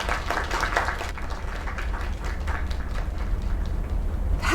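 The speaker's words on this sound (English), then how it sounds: "Another round of applause." Crowd applause inside the video game Lake: a broad, steady wash of many hands clapping at middling loudness through the whole stretch, with faint chatter mixed in.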